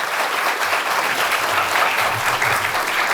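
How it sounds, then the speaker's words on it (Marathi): An audience at a college road safety awareness event claps loudly and continuously, a dense wash of many hands held evenly for about three seconds, close and without voices. "जोरदार टाळ्या झाल्या पाहिजे तुमच्यासाठी."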